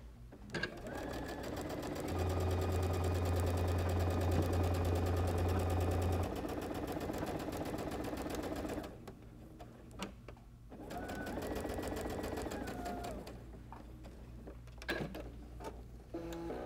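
A sewing machine stitches quilt rows together for a nine-patch block, its rapid needle chatter running in steady bursts with short pauses between, close and fairly quiet.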